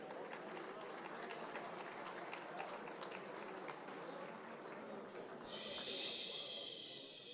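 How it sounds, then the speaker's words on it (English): Audience applause fills a hotel banquet room at a gala luncheon, a steady dense wash of many hands clapping that swells louder and brighter near the end. "Give yourselves a nice round of applause."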